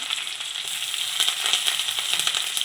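Shallots added to hot oil with mustard seeds for a Kerala aviyal, giving a bright, continuous crackling sizzle with fine popping, loud and close, with no talk.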